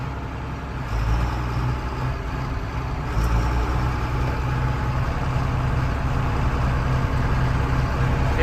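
1992 John Deere 4055 tractor engine with a steady low diesel drone that swells a little as fuel is added while shifting into high gear, near and continuous with no talking.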